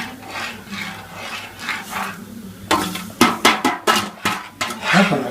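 Semolina is poured into boiling water in a pot and stirred, giving scraping, rubbing strokes of a spoon against the pan in a quick repeated rhythm, close and fairly loud.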